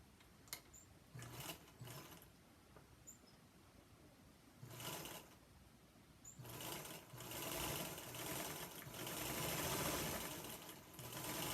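A sewing machine stitches a quilt block in several runs, a close mechanical whirring hum that starts and stops in short bursts, then runs longer and steadier toward the end.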